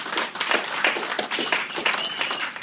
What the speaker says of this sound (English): I need a round of applause for the bridesmaids